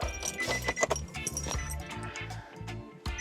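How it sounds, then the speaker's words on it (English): A bunch of car keys for a 2010 Nissan Sentra jingles and clinks close up while the ignition is turned on, bright metallic rattles over a rhythmic low thumping. "grab the keys and we're going to turn the ignition on"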